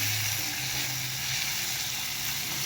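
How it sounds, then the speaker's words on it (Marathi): Soaked cashews sauté with ginger-garlic paste in a pan for dhaba-style kaju masala, giving a constant close, even sizzle with no pauses. "त्याला पण थोडं 1 मिनिटभर परतून घेऊया आपण"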